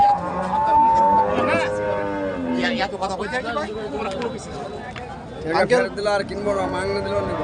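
A cow at a crowded cattle market moos in drawn-out calls that rise over steady crowd chatter and bargaining voices nearby.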